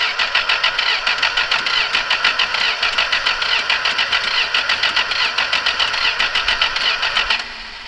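A classic Mopar car's starter cranks the engine steadily for about seven seconds in a fast, even rhythm, close and loud, then cuts off without the engine catching.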